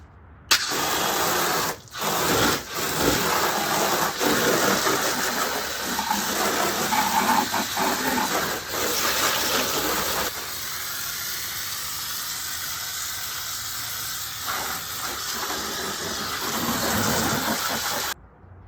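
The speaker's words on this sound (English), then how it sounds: "I'm just going to rinse it down with my water hose." A garden water hose rinses down a car's coated paint, a steady broadband hiss of spray running almost without break and softening slightly toward the end.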